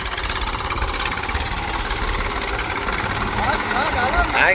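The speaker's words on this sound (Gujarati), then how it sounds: "ભાઈ સાહેબ મગનું છે ને ટ્રેક્ટર હાલે છે જોવો તમે" A tractor engine runs in a farm field with a loud, steady, rumbling drone that lasts the whole stretch, and voices are mixed in under the noise.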